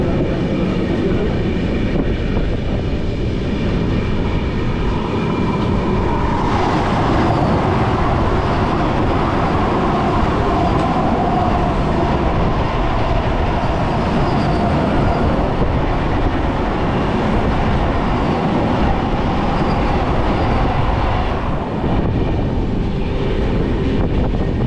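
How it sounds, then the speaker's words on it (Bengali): Puri–Howrah Vande Bharat Express train rushing past at close range, a loud, steady roar of wheels and rail noise that holds for about 25 seconds without letting up. "পুরী হাওড়া বন্দে ভারত বেরিয়ে গেল।"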